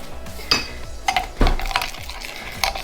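Homemade winter moisturiser mixed in a container: close, uneven scraping and clinking of a utensil against the sides, with several louder knocks spread across a short, continuous stretch of stirring.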